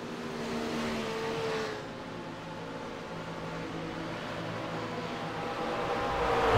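Race cars at the 24 Hours of Spa-Francorchamps, near the crest of Eau Rouge, make a steady, moderately loud engine drone with tonal whine that swells louder toward the end; no one speaks.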